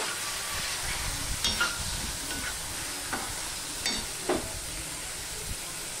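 Spinach and sesame seeds stirred and fried in a pan, a soft continuous sizzle with a few light scrapes and taps of the spatula, close but fairly quiet.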